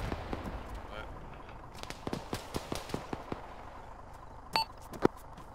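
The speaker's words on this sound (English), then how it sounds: "I threw a grenade over the wall." Grenade and gunfire blasts in a night-time multiplayer shooter game, a run of sharp cracks and pops followed by two louder bursts near the end, with players chatting over voice comms.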